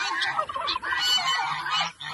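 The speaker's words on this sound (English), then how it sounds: "Got all our geese. There's just geese everywhere." A dense chorus of geese on a farm honking continuously, many birds calling over one another at close range, loud and overlapping.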